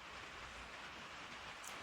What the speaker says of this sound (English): May hear some rain in the background on the tin roof